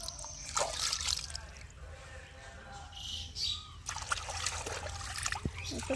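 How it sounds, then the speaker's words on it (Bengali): Muddy taro roots are washed by hand in pond water outdoors, with trickling and splashing from the hands working in the water, and birds chirping in the background throughout. "জলে দেওয়ার সঙ্গে সঙ্গে কাদাগুলো গলে গেছে তবু হাত দিয়ে ভালো করে ধুয়ে নিই"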